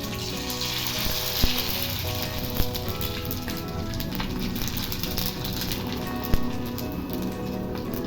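Hot oil in a kadai crackles steadily as papad fries, a close, even sizzle broken by a few sharp clicks and taps of a utensil, with no one speaking.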